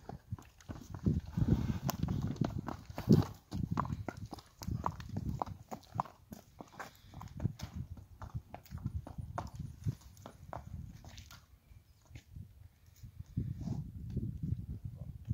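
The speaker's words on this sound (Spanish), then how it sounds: "Chulada de caballito, ¿eh?" Hooves clip-clop steadily as a horse walks on a horse ranch in Kansas, the footfalls close and continuous, with a few faint voices and light rustling in the background.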